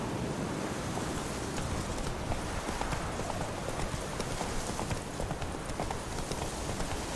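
Roach, a horse in The Witcher 3: Wild Hunt, galloping in a steady dense drum of hoofbeats, blended with broad wind-like rushing noise throughout.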